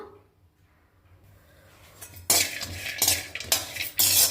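Dry copra coconut stirred and roasted in a hot vadai pan, with quiet low stove hum at first, then loud scraping and clattering bursts of a spoon against the pan.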